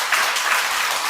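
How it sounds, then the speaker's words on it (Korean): A short burst of congregation clapping during a Sunday church service, offering encouragement to a young member, with a steady broadband patter and no talk. "다시 한번 우리 송찬영 청년을 위해 격려의 박수 부탁드리겠습니다."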